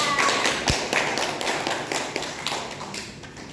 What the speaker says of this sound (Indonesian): Ayo kita beri aplaus kepada Desita